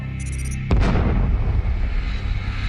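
A sudden deep boom bursts in after a low hum, followed by a long rumbling roar that rolls on and fades slowly, a sound effect for a cosmic explosion.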